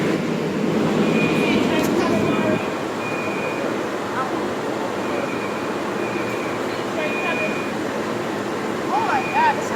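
A New York 7 subway train pulls out of the 34th Street station with a steady rolling rumble and faint high whine, close and continuous, with people talking faintly in the background.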